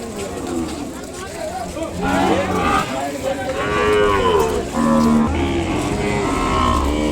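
Ongole bulls and other cattle moo repeatedly at the Kodad Sunday livestock market, loud and close over a busy crowd murmur, with people talking throughout.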